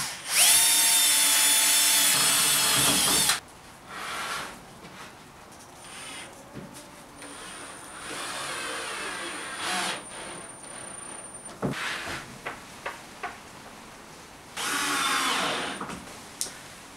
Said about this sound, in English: the holes that I'm going to drill to attach the plank to this one